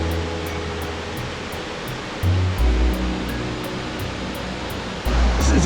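A loud waterfall roars close by at a rock grotto on a hike, a steady broadband wash of falling water with heavier low rumbling surges partway through.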